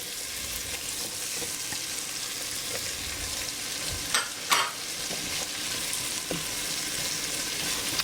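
Onions and green pepper cooking together in a pot for spicy shrimp and grits, giving a steady, even sizzle throughout, with a brief stirring scrape midway.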